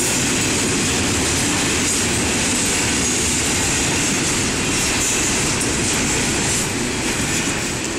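Close and loud, a Norfolk Southern freight train (unit 9656) rumbles past on tracks off Willow Street in Effingham, Illinois, its cars producing a continuous roar with clickety-clack wheel beats and faint squealing throughout.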